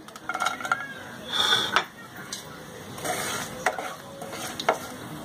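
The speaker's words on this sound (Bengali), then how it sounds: "গোটা তেজপাতা, শুকনো লঙ্কা এবং জিরে ফোড়ন দিতে হবে।" Whole bay leaf, dried red chilli and cumin seeds hit hot mustard oil for tempering, a quiet crackling sizzle broken by metallic clinks and scrapes of a spoon against the pan.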